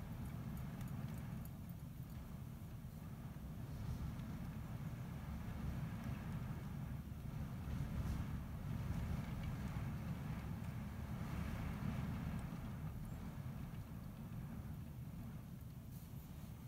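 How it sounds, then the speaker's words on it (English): A low, steady rumble of stormy wind outside, gusting softly and continuously throughout, faint and with nothing else standing out. "Windy outside."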